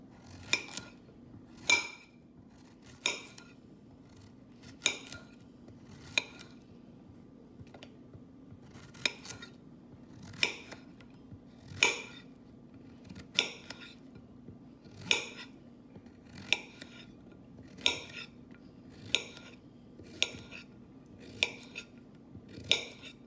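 A knife slices yellow squash inside a skillet, producing crisp, sharp taps against the pan at a steady pace of roughly one per second, close and clear over a quiet background.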